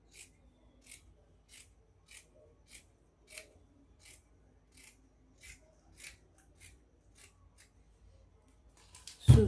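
Scissors snip through fabric in a steady series of about a dozen short, crisp cuts while a dress pattern is trimmed, fairly close and quiet, with a louder handling rustle at the end.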